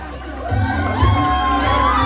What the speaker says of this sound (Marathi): सगळ्यांनी जोरदार टाळ्या वाजवायच्या हर्षसाठी